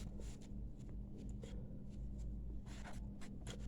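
Marker or chalk writing maths on a board, a series of short scratchy strokes in quick irregular bursts, close and fairly quiet over a low steady hum.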